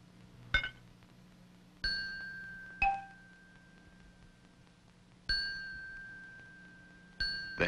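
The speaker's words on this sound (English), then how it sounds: "The heavy steel bar vibrates much faster than wood, so its voice has a much higher pitch." A heavy steel xylophone bar is struck several times, each hit giving a sharp metallic ding that rings on like a bell and slowly fades, with a quiet hum underneath.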